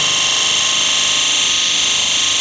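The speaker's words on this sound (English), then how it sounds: "So we're sanding down" A disc sander sanding a briefcase part whirs at a loud, steady high-pitched drone, running continuously without pause or change in tone.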